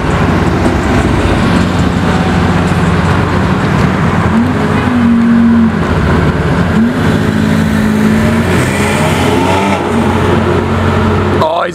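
A supercar revving on a lap through Toronto streets, loud engine drone with rising and falling rev sweeps over steady traffic noise, a voice briefly audible.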